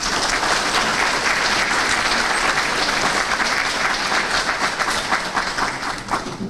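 Applause from an audience after a morning show address, sustained dense clapping from many hands, loud and close, holding steady for several seconds before thinning slightly toward the end.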